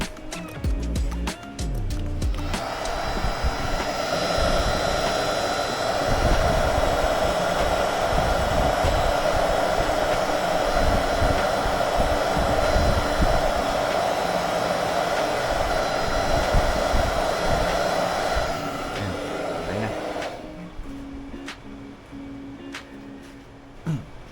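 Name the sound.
blower heating helmet intercom adhesive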